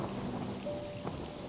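Steady rain falling and pattering densely on surfaces, a constant even wash of sound with no voices.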